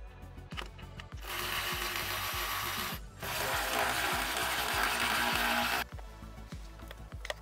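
Mechanical ratcheting of a wrench on a Camaro's brake caliper bolts during a front and rear rotor swap, with quick repeated clicks in bursts and a steady busy mechanical wash between them, close and fairly loud with no talking.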